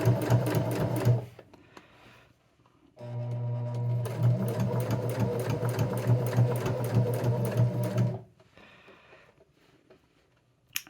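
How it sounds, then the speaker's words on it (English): A sewing machine sews a silk tarot pouch: a short burst of fast, even stitching, a pause, then a longer continuous run that stops abruptly, with quiet gaps between. "And then you can go ahead and sew along down"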